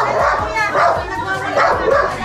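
A dog barks angrily several times in quick bursts, close by, overlapping with children's voices and adults talking at a home visit in Marikina.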